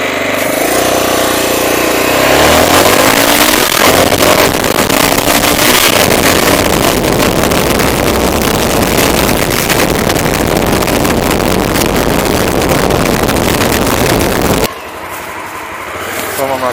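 Honda SLR 650 / FX 650 Vigor motorcycle engine revving up hard and accelerating, a loud, sustained roar with rising pitch sweeps through gear changes, cutting off abruptly near the end.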